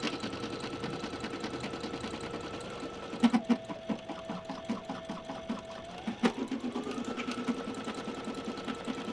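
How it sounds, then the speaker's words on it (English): A sewing machine hums steadily with a rapid mechanical patter of stitching, pausing and shifting rhythm as it works through buttonholes, close and clear. "I really enjoy buttonholes on the sewing machine because it does all the work."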